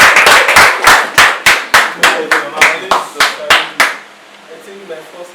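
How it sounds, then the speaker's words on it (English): Rhythmic hand clapping from an audience, about a dozen sharp claps in steady succession, loud and close, then stopping abruptly into a quiet room tone. "let's clap for him."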